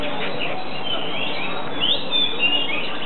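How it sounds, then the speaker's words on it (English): Magpie song in a Hong Kong bird garden: bright whistled chirps and short phrases rising over a steady background hiss and chatter, a few clearer notes standing out near the end. "that's magpie singing rather than the shama."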